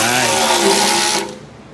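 A cordless drill runs continuously while driving in oil pan bolts during engine assembly on a 1965 Ford Mustang coupe, a loud close whir that cuts off abruptly near the end.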